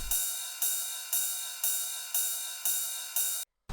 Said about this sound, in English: Then we have this little ride,